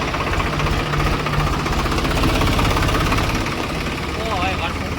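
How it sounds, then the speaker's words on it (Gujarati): A tractor engine idles and chugs with a steady low rumble at a cow shelter, close and continuous throughout, with a faint squeal near the end. "આ ગૌશાળામાં તો મિત્ર ટ્રેક્ટર આવી રહ્યું છે ને"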